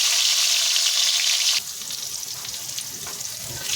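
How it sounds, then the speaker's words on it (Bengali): Pointed gourd pieces fry in hot mustard oil in a kadai with a loud, bright sizzle that drops to a quieter, steadier crackle partway through. "এবার পটলগুলো ভেজে নেব।"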